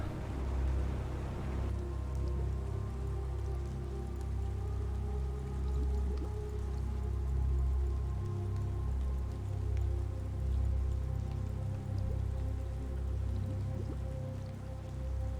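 Steady rain patter and rushing water in the video game Planet Crafter, rain falling while underwater; a dense, continuous wash with a low rumble, fairly quiet and unbroken throughout.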